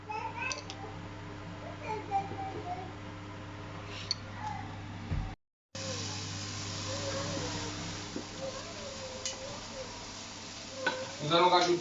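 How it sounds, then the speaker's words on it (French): Red onions frying in oil heated quite high, a steady low sizzle running throughout, with faint voices and a child babbling in the background and a brief dropout midway. "nous allons faire chauffer notre huile assez vif. Et nous allons mettre des oignons rouges"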